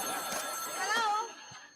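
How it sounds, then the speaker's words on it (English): Telephones ring as a sound effect in a live stage performance, a warbling electronic bell trill that swells and fades over about two seconds amid room noise. "The doorbell's going, the phones are ringing."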